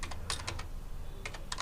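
A MySQL command being typed on a computer keyboard: two short bursts of crisp, close key clicks separated by a brief pause, over a faint steady hum.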